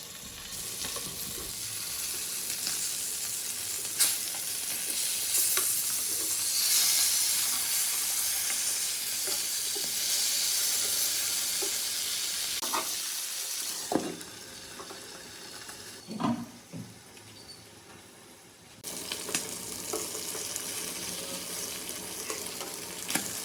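Marinated fish pieces fry in coconut oil on a tawa in a village-style home kitchen, giving a steady, loud sizzle with soft clinks and scraping as they are turned. The sizzle drops briefly, then resumes.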